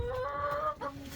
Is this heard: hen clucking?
yes